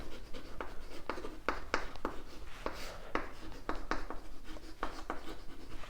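Chalk or marker writes on a classroom board in a quick series of short scratchy strokes, close and fairly soft, with brief pauses between letters and no speech.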